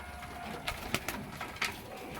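A racing pigeon hen coos softly in a loft, a few low murmured calls set against a faint rustling background.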